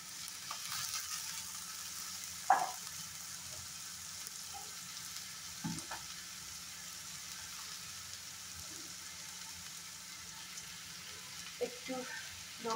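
Garlic paste frying in a pan gives a soft, steady sizzle throughout, broken by a few brief utensil clinks and scrapes.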